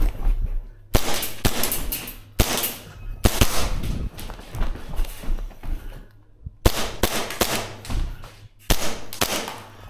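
Tokyo Marui Chisato airsoft pistol fired in rapid bursts of sharp, snappy cracks at close range, the pops clustered in quick strings with short pauses between, plus faint thuds and background rustle.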